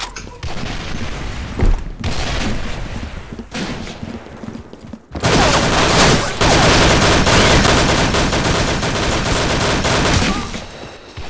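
Loud video game gunfire in rapid automatic bursts, with a brief gap and then a long sustained stretch of continuous shooting.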